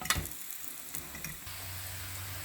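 Steady sizzling of meatless vegetable cutlets frying in a pan, a soft continuous hiss with faint clicks and stirring noises, close by.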